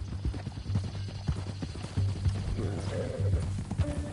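Hooves clip-clop at a walking pace on a horse in the video game Red Dead Redemption 2, a regular beat of close, distinct strikes over a low background hum.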